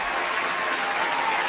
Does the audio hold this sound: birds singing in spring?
no